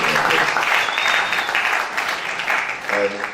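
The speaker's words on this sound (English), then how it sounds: "I want you to give yourselves a very, very big round of applause." Graduates at a film academy graduation ceremony applaud themselves in a full, steady burst of clapping with some cheering mixed in, loud and close throughout.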